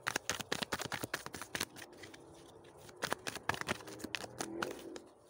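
Tarot cards shuffled by hand before three are drawn, giving a rapid, uneven run of crisp riffling clicks and snaps, close and fairly loud, with no talking.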